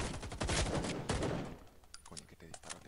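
Rapid bursts of gunfire during a team shooting match, several sharp shots in quick succession that fade into scattered quieter pops and faint voices in the background.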